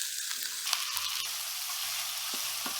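Finely chopped onion sautéing in a pan for Goan chicken curry with coconut milk, giving a close, steady hissing sizzle with a few stirring scrapes.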